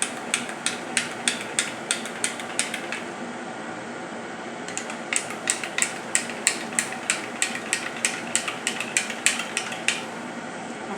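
Raw mango panna being stirred and mixed in a vessel, rapid rhythmic clinks of a spoon against the sides in two bursts of steady strokes over a soft continuous background hiss, close and fairly loud.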